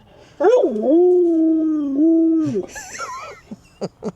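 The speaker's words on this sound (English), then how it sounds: "That's a little piece of husky she's got in her, huh? She's just a howler." A female dog with some husky in her lets out a long, sustained howl lasting about two seconds, close and loud, followed by higher yips and whimpers and a few short sounds at the end.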